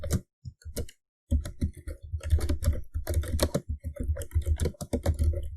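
Rapid clicks on a computer keyboard while C code is typed, close and dry, starting with a few sparse taps before a brief pause and then a dense, steady run of keystrokes.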